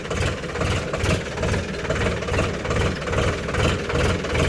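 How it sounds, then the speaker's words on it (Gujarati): A diesel farm tractor's engine runs at a steady idle nearby, its low rhythmic chugging and vibrating knock pulsing evenly throughout with no speech. "આપણું ટ્રેક્ટર રેડી થઈ ગયું છે"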